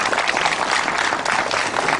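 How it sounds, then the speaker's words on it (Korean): Audience applause at a literary award ceremony after a poetry prize is presented, a brief, even, dense burst of clapping from a seated crowd. "네, 여러분 박수 보내주십시오"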